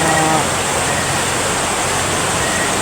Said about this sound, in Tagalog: Nandito na kami sa tabi ng ilog guys.